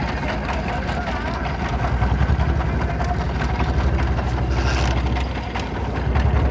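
Steady low drone of a boat engine chugging at a floating market at dawn, a wooden boat carrying coconuts nearby, loud and continuous with busy background noise.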